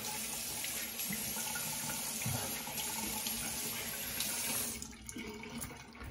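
Tap water pours steadily into a bathroom sink for rinsing after a shave, a continuous close splash that eases slightly near the end.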